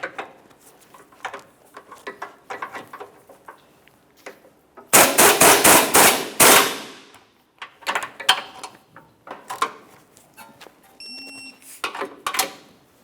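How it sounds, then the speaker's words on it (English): Rapid bursts of an impact or ratchet wrench snugging and torquing the rear inward bolt of a front lower control arm on a 2003-2007 Honda Accord, a loud rattling run of hits followed by shorter metallic clicks and clanks, close by. "We'll snug that and then torque that to 47 foot-pounds as well."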